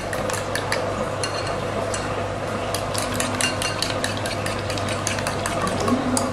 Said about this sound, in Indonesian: Kocok lepas aja sampai rata.